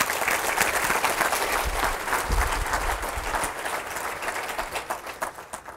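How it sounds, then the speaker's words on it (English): A seminar audience gives sustained applause, a dense wash of many hands clapping at a steady level before it slowly thins out toward the end. "Round of applause for Jay, ladies and gentlemen."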